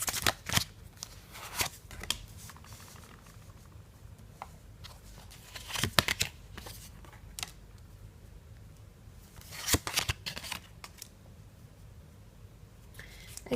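Tarot cards are shuffled close to the microphone, a soft, quiet papery rustle broken by sharper riffle bursts and card snaps at irregular intervals, with no talking.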